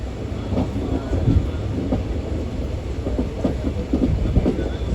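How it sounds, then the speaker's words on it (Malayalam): An Indian train pulls into Dharwad station on the Belagavi to Hubballi route, its wheels giving a steady clickety-clack rumble with rhythmic thumps over joints, heard from inside the carriage as a continuous moderate roar. "ട്രെയിൻ ഇപ്പോൾ ധാർവാഡിലേക്ക് എത്തിക്കൊണ്ടിരിക്കുകയാണ്"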